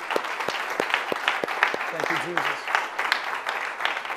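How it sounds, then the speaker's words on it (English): A church congregation claps along during a service, a steady wash of hand claps with a few distinct sharp claps, under a voice speaking over it. "Can you clap your hands for that?"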